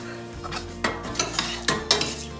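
Rice for plain white rice browning in a pan, stirred with a utensil, giving a steady sizzle with repeated scraping strokes roughly every half second; close and alone.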